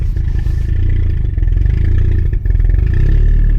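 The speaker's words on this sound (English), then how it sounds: "the car doesn't want to idle right" New Jeep engine idling roughly in a driveway, a loud low rumble with an uneven, pulsing throb and a brief dip partway through, no talking.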